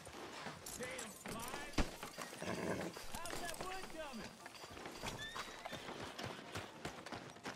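Horse hooves clip-clop under a rider in the Red Dead Redemption video game, with a whinny rising over a dense game mix where voices talk throughout.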